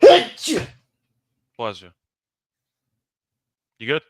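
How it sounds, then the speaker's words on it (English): One sharp, loud human sneeze bursts out at close range, followed by short spoken exchanges separated by silence. "I gotta sneeze"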